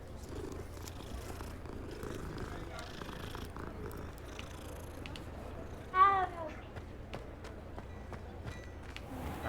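Cat purring in the Hogwarts Legacy video game, a soft, low rumbling purr running continuously with a brief sharper cat sound rising over it partway through.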